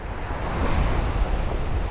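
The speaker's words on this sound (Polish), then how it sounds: "Za mną szum morza." Sea waves wash onto the shore in a loud, steady roar of surf mixed with wind buffeting the microphone, continuous and close, with no voices.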